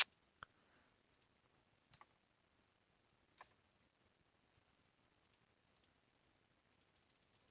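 Sparse computer mouse clicks, single and paired, spaced irregularly at first and then a quick cluster at the end, crisp and close but faint in a nearly silent room.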